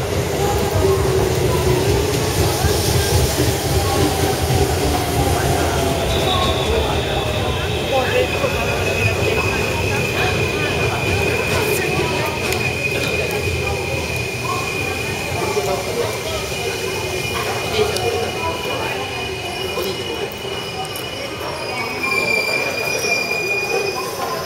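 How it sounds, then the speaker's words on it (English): Express train to Tokyo in Japan sweeps into a station and past at high speed, a steady loud roar with long high-pitched wheel squeal rising over it, close by, with faint voices underneath. "Oh, here it comes. Express train to Tokyo?"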